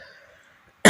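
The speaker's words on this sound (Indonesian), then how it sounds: "Maaf, batukku." A single sharp cough bursts in loud and close at the very end, after near silence with a faint tonal hum.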